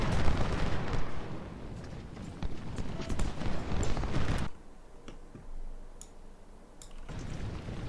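Artillery and gunfire rumble through a Civil War battle in Ultimate General: Civil War, a dense continuous barrage of booms and crackling shots that drops away midway, leaving sparse distant reports before the din swells again.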